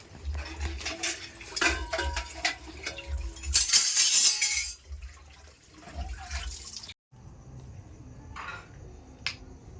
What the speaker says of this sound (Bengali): এই দেখো আমার বাবা কত বাসন মাজছে,